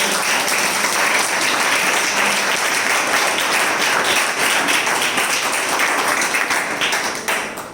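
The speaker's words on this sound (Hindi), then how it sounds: "तो क्यों ना एक बार ताली बजाकर परमेश्वर को" A church congregation claps together for God during Sunday worship, a loud, dense, sustained burst of applause that holds steady for several seconds before tapering off at the end.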